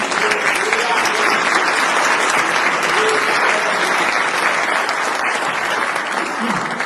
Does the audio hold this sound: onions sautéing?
no